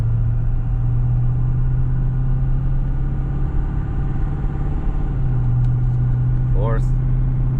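A Ford Super Duty pickup truck's engine runs at a steady low rumble under light throttle while pulling through the gears, close and continuous, with a brief higher whine near the end.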